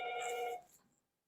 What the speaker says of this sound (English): Perfect time for the phone to ring.